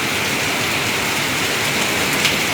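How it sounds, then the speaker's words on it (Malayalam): Big, heavy raindrops pelt down at Anakkallu near Kanjirappally, Kerala, a thick, constant hiss and patter of a downpour close to the listener, loud and unbroken. "ജലത്തുള്ളികളാണ് വീണുകൊണ്ടിരിക്കുന്നത്, മഴത്തുള്ളികളാണ് വീണുകൊണ്ടിരിക്കുന്നത്."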